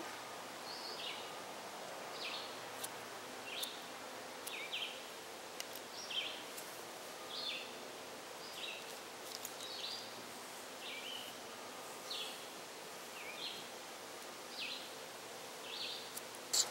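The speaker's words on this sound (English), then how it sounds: "Do you hear those birds? How nice they sing?" Short bird chirps repeat every second or so against a steady outdoor hiss, with a faint rustle underneath; no one speaks.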